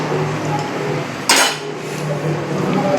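In a home kitchen, dishes clink as rice is served for lunch: a single bright metallic clink stands out partway through, over a steady room murmur, with no talking.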